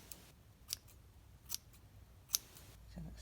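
Scissors snip around a small yarn pom-pom as it is trimmed into a neat circle: three quick, crisp cuts spaced about a second apart, close and fairly quiet over a faint background hush.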